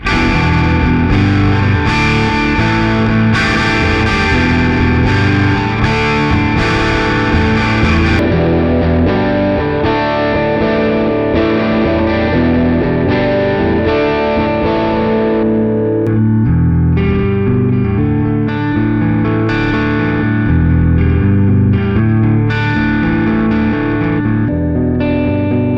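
Heavily distorted electric guitar played through preset cabinet impulse responses on a Mooer Radar IR loader, loud and continuous with sustained chords and riffs whose tone shifts as the presets change, with no talking.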